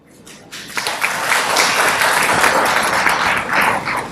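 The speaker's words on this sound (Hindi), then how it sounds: "तो अपनी स्माइल के लिए एक बार ताली बजा दीजिए" Audience applause swells at an astrology conference in New Delhi, many hands clapping loudly and continuously after a brief quiet start, filling the hall with a steady roar.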